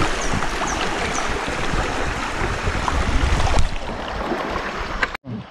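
A river swollen after heavy rain rushes along, a broad steady roar of flowing water close by, with a faint thump near the end before the sound abruptly drops out.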